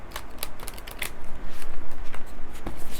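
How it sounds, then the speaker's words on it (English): A large Sacred Rebels oracle card deck is shuffled sideways up close, with quick riffling and soft papery flutters in uneven bursts and no speech. "I sideways shuffle these because they're so big"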